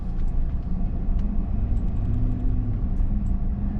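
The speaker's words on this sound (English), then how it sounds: "got a couple cars coming here" Cars on a road pass by with a continuous low rumble of engines and tyres, steady and fairly loud, with no talking.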